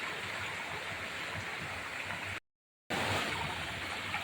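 Floodwater rushes over a road bridge in a steady, dense roar that continues unbroken apart from a brief dropout partway through.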